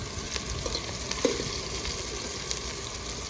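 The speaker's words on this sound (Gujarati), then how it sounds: "આપણે તેલ નામી દીધું તમે આપણે લીલા મરચાં ને ડુંગળી નાખી દીધી હવે આને છે ને આપણે પકાવી નાખીએ" Green chilies and chopped onion sizzling in hot oil in a pan, a steady close crackle and hiss with a few small pops and stirring sounds.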